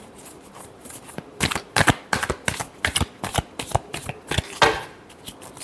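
A deck of tarot cards is shuffled by hand in rapid crisp riffling bursts, close and clear, with no talking over it.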